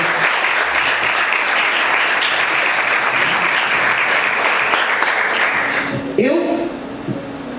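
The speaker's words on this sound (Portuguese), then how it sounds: "Vamos aplaudir o Senhor com muita alegria." Worshippers in a church service break into loud, continuous clapping that holds steady for several seconds, then fades out as a voice begins speaking over the tail end.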